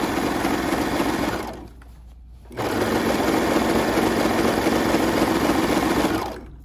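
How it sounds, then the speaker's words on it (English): Sewing machine with a cutting blade stitching and trimming fabric for sleep shorts, a fast, close, steady whir running in two long bursts separated by a short pause. "I'll just stitch off, keep it out of the blades, and that way I can just trim it"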